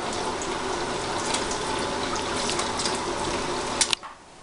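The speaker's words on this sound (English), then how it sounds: "we're just taking the prawns, washing them up here, getting them all cleaned up from the ocean" Tap water runs steadily as freshly caught ocean prawns are rinsed clean in a sink, a loud continuous splashing that cuts off abruptly near the end.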